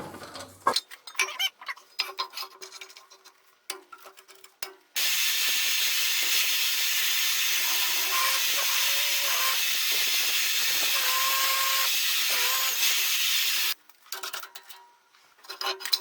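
A drill press fitted with an annular cutter bores through metal for a trailer wiring upgrade, giving a steady, loud hissing whine for about nine seconds, with scattered clanks and rattles before and after.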